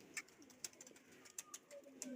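Pigeons coo softly and faintly in short, scattered calls, mixed with light chirps and occasional clicks, with no clear talking over them.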